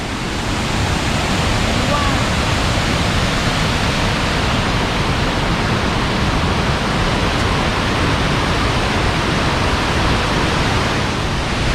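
Steady, loud roar of Sturgeon River Falls in Michigan's Upper Peninsula, a continuous broadband rush that never lets up, with no other sounds standing out.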